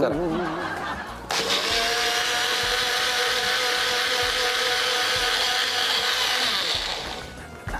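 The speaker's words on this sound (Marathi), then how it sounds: "आम्ही मिक्सर मध्ये करतोय" An electric mixer grinder blending lassi at home, a loud, steady high whine starting abruptly and running for several seconds before winding down, with people laughing and talking over it.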